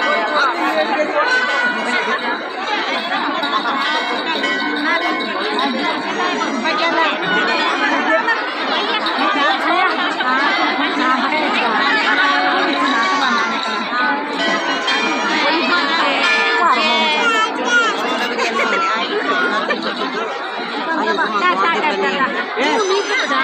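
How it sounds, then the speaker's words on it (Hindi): Dense crowd chatter at the Ghandyal fair, a busy Himalayan village festival with people gathered from far away, a steady loud wash of many voices with faint bell-like ringing mixed in throughout. "और यहाँ पे काफ़ी ज़्यादा मात्रा में भीड़ हो चुकी है"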